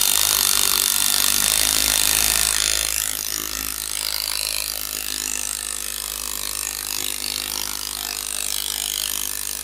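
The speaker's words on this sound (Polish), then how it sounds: "po prostu to wkręcamy." A power tool drives screws into aerated concrete nearby, giving a loud continuous grinding, rasping whir that eases slightly midway and then holds steady.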